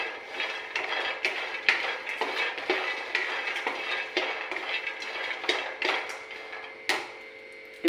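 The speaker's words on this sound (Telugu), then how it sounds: "ముందు ఒక చిన్న గ్లాసు వేరుశనగ గుళ్ళు ఇలా ఆయిల్ లేకుండా వేయించుకోవాలండి." Peanuts dry roasting in a pan without oil, a run of close, sharp metallic clinks and scrapes as they are stirred and tossed, irregular but continuous, no voices.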